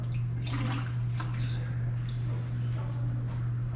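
Water pouring steadily into a reef aquarium during topping off, a continuous near splashing wash with a steady low hum of pumps underneath, no talking.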